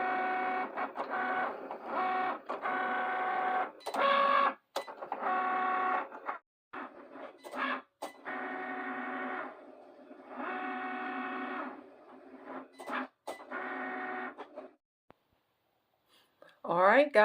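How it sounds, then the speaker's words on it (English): A Cricut cutting machine cuts a T-shirt design, a steady mechanical whirring and buzzing in repeated carriage passes with short pauses and clicks, near and fairly loud, with brief talk near the end. "we just watch Cricut do its magic"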